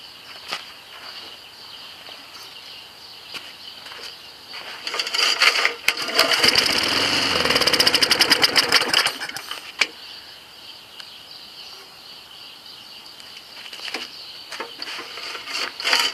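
A lawnmower engine running on vegetable oil fuel sputters and sewing-machine-like chatter swells to a rough, loud burst for about three seconds, then drops back to faint irregular ticking and tapping.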